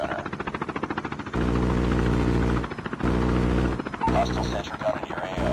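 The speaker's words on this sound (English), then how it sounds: "Deployed chopper gunner." A chopper gunner helicopter in Call of Duty Mobile multiplayer keeps up a loud, steady rotor drone with rhythmic thumping, briefly broken by pauses, and a voice talks over it.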